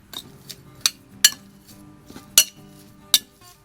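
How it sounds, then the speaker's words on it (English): Sausage and peppers for cheesesteak sandwiches get a quick mix with a metal utensil in a pan, producing a handful of sharp clinks and scrapes at irregular intervals over a low background clatter, close and fairly loud. "Just going to give this a quick mix."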